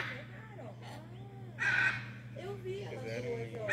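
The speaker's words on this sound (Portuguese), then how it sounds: "Arara." Blue hyacinth macaws calling in Mato Grosso do Sul, harsh raspy squawks repeating with one loud burst partway through, fairly close, with people talking around them.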